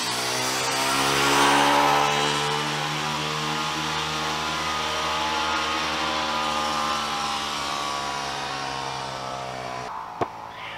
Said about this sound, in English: comes the kid on a little two-stroke